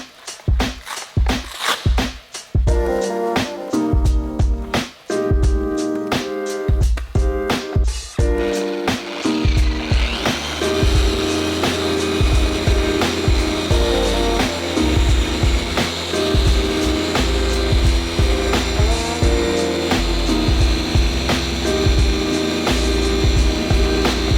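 An electric car polisher buffs paint on a Honda Civic Type R body with compound and a coarse pad, first in a run of loud rhythmic bursts and then as a continuous, close, grinding whir, with no talk.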